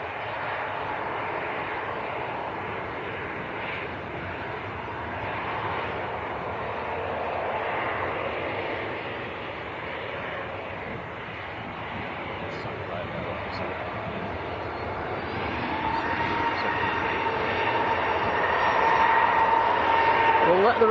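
At Manchester Airport a Ryanair jet and a Gulf aircraft produce a sustained engine roar that swells louder toward the end, with a voice speaking over it at times.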